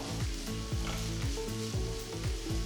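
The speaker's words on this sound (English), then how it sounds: "Fry the onions till they turn to a nice golden brown color." Three large finely chopped onions frying in oil in a pan, a loud, close, continuous sizzle and crackle with a steady rhythmic clatter of stirring throughout and no voices.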